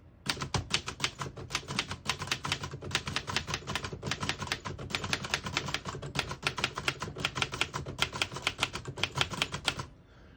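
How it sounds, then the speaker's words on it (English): A 1941 Remington Streamliner portable typewriter types in rapid, even clatter, dense bursts of crisp key strikes continuing for about ten seconds before stopping, close and alone. "It's pretty quiet compared to most typewriters, and it just feels really smooth."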